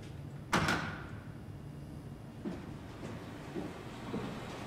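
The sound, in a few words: creepy door in the video game SOMA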